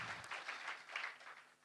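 Brief, fairly faint applause from the audience at the closing ceremony of a general conference, steady broadband clapping with no voices over it.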